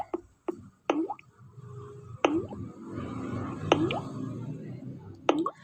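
Water drips one drop at a time, each a sharp hollow plop, spaced irregularly over a soft background murmur.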